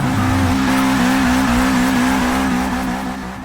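An Abarth 595 wheelie build driving in Forza 6, its engine holding a loud, steady tone close up, with tire squeal and a slight wavering in pitch as it runs on.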